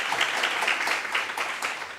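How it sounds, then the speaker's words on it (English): A seated audience at a university optometry undergraduate research presentation breaks into a dense, even wash of applause, many hands clapping at once without pause for the full stretch. "Can we give them a round of applause?"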